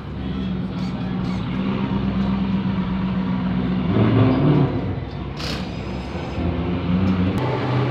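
A vehicle rolls in off a track after a shakedown test run, its engine a steady droning hum with tonal layers that swells briefly midway and then settles, fairly close with no voices over it.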